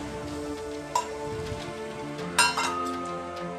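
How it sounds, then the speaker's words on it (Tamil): Fenugreek powder sizzling in oil heated in a ladle, a faint, steady crackle like light rain, with a couple of sharp metallic clinks from the utensil over a low background hum. "அதுக்காக தனியாக வந்து ஒரு கரண்டியில் எண்ணெய் காய்ச்சி அதில் போடுறேங்க"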